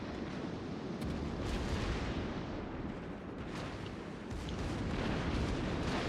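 Naval gunfire and ship explosions in a warship video game, with a Des Moines cruiser being sunk: continuous dense rumbling booms and blasts, loud and layered, with repeated heavier impacts and no speech.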